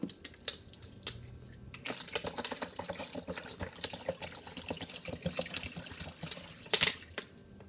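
Tap water running and splashing into a container while six cups are measured out for a lemon juice solution for canning pears, with clinks and knocks of kitchenware throughout and one louder splash near the end.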